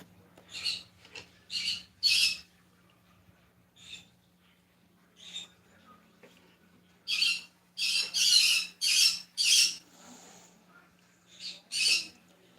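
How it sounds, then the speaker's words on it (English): Pet birds indoors give repeated harsh, scratchy squawks in irregular bursts, some in quick clusters, close and moderately loud over a low steady background hum. "Especially when your birds are being uncooperative."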